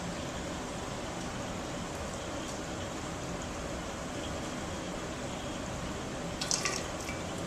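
Liquid is poured back into a container while rinsing glassware during lab solution preparation, giving a faint, continuous trickle under a steady wash of background noise and a brief splash near the end.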